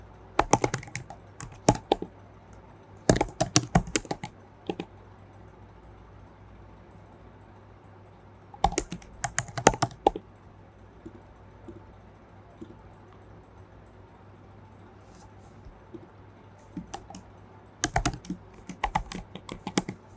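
Bursts of typing on a computer keyboard while filling in admin account details, clattering in several separate clusters with quiet pauses between them, close and clear, no voices.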